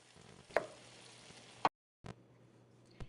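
Reindeer meat frying in a pan for stroganoff, a faint soft sizzle with a few sharp stirring clacks and a brief cut to silence midway.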